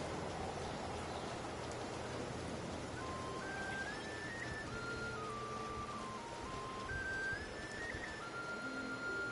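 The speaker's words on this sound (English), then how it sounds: "No surprise it's raining right now." Steady rain hisses down in Genshin Impact, a dense even patter holding throughout, with a soft melodic tone line drifting above the downpour and no voices.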